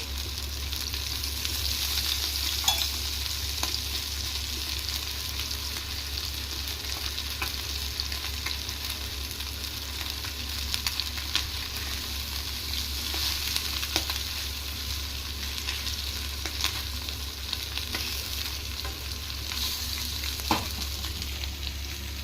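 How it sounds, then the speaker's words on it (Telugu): Fish frying on a tawa, beach-side style, with a steady loud sizzle throughout and occasional soft scrapes and clicks as the pieces are stirred; no one speaks. "చూడండి, మన చేప ఫ్రై అయితే రెడీ అయిపోయింది"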